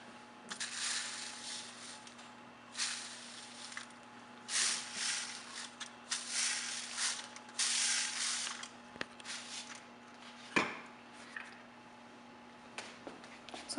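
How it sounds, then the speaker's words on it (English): Several bursts of fine hissing spray from a spray bottle misting water onto bread dough, each a second or so long, with short pauses between, fairly close and moderately loud, then a few soft knocks. "Now we're gonna spray just a little bit with the regular water."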